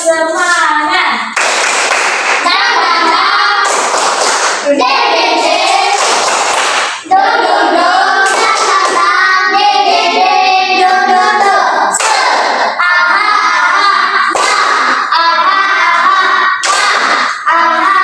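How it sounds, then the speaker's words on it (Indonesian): A classroom group of students performs a patterned spirit clap, loud bursts of rhythmic clapping repeated in sets over about eighteen seconds, with children's voices and chanting mixed between the claps. "Tepuk semangat."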